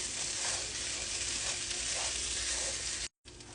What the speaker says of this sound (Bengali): আস্তে আস্তে সুন্দর করে ভাজবো।